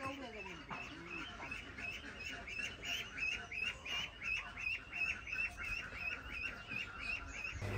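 Ducks quack in a quick, repeated series, several birds calling close by with a rhythmic, nasal chatter over faint background noise.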